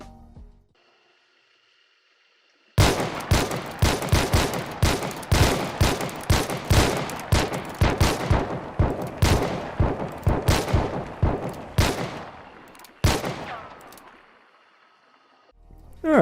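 Paired pistols fire in Hunt Showdown as a long rapid volley of sharp, loud shots at a fast, even rhythm. A brief pause comes before a few final shots and a ringing tail.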